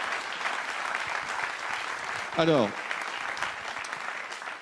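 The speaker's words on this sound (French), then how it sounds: "Vos applaudissements," Studio audience applause on a French television show, steady broadband clapping running throughout, with a host's voice briefly speaking over it midway.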